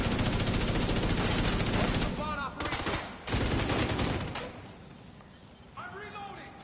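Sustained automatic gunfire in The Division 2 on PS5, dense rapid bursts that hammer continuously for several seconds, pause briefly, resume, then fade, with a player talking over the shooting.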